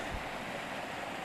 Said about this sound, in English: a little creek running underneath the